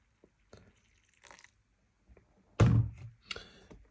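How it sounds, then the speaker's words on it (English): Water poured onto small Shu Pu-erh tea leaves in a brewing vessel for the first brew: a few quiet clinks and taps, then a short, louder splashing pour, followed by soft trickles and a light clink. "we just add some water and made the first brew"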